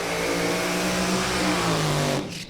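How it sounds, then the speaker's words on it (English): NHRA drag racing cars roar at a live event, a loud, steady engine drone with sustained tonal howl that fades out near the end, with no talking. "I'm telling you, those loud cars scare me."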